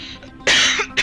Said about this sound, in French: Attendez, là j'ai envie de tousser.